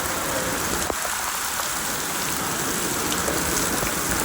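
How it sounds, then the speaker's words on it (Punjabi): Heavy rain pouring steadily onto a surface, a dense, unbroken hiss with occasional drop taps, close and loud throughout. "ਬਰਸਾਤ ਬਹੁਤ ਪਈ ਸਾਡੇ ਵੱਲ ਹੁਣੀ ਹੁਣੀ ਬਹੁਤ ਤੇਜ਼ ਵੀ ਪਿਆ ਆ"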